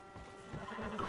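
A horse in the video game Red Dead Redemption 2 gives a short, faint, agitated whinny, heard alone in a brief moment.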